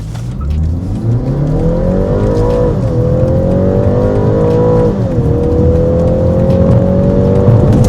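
Car on Kumho Ecsta Sport S PS72 tires accelerating hard from a launch, a loud engine rising in pitch through two gear shifts, heard close and alone without talk.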